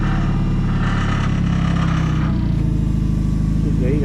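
A vehicle engine idles and pulls forward during the unloading of a Bridgeport milling machine, a loud close steady rumble with a throbbing pulse.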